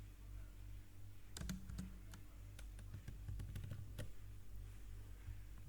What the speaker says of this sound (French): Une fois fini, je clique sur Entrée.